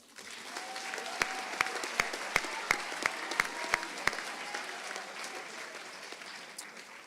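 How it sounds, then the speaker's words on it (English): A crowd applauds award winners at a middle school awards ceremony, with dense steady clapping and a few sharp, louder claps standing out near the front before the applause thins toward the end. "One more round of applause for all the award winners at this time as well."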